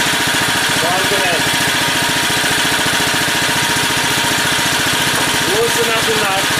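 A Generac 4000EXL portable generator engine runs at low idle with a steady, loud, rapid mechanical chug and throb that never lets up, while someone speaks briefly over it.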